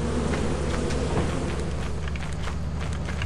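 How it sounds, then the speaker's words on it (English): Electric bees buzz in the video game Lethal Company, a moderate steady drone under game noise and movement with no talk over it. "Bees!"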